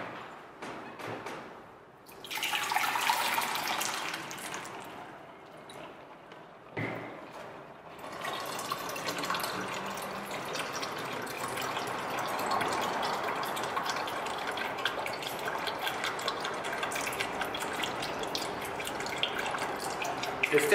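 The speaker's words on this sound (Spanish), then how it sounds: "Vamos a sacar la pulpa, la vamos a escurrir" Wet recycled paper pulp drains through a kitchen strainer, a steady broadband splashing and trickling of water that runs continuously after a brief pause, fairly close and with no talking.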